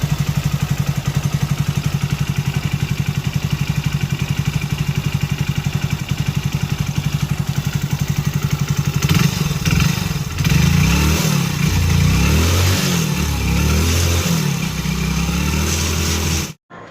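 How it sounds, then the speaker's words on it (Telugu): A restored Rajdoot RS motorcycle engine, rebuilt after a full engine bore, runs close by with a steady throbbing idle that turns rougher and louder with uneven revving partway through, alone without talk. "మనకి ఇంజిన్ అన్నది నాయిస్ అన్నది మీకు అలాగే వినపడుతుంది"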